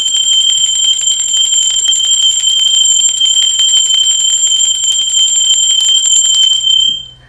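A ringing bell, loud and continuous, with a bright sustained metallic tone and rapid repeated strikes lasting about seven seconds before cutting off abruptly.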